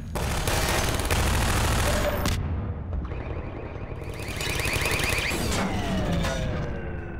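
Rapid gunfire in the video game Half-Life 2: dense automatic bursts fill the first seconds, then sustained loud combat noise with alarm-like tones continues to the end.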